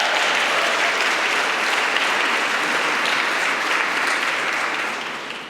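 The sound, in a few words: applause at an award ceremony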